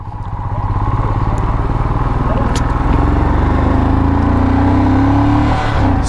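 A motorcycle climbing toward Everest base camp in Nepal gives a steady, close engine drone with a rough throb, a slight rise in revs midway, and a constant rush of wind.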